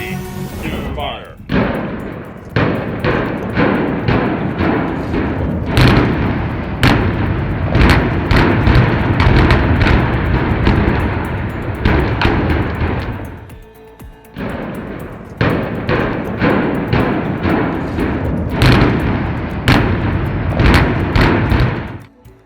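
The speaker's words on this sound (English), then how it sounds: "They used a precise implosion to take it down safely" A coal-fired power plant in the United States comes down in an explosive implosion demolition: a long run of sharp, loud blasts and heavy rumbling, with a brief lull midway and voices talking over it.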